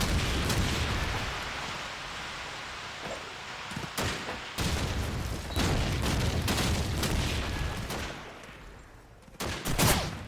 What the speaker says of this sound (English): Got some nade kills trading off here.